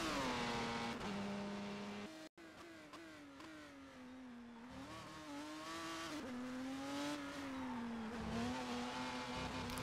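Race car engine at Imola in a sim racing game, revving and droning as the pitch climbs and falls through gear changes, with a brief cut near the start and the whine staying clear and steady alone.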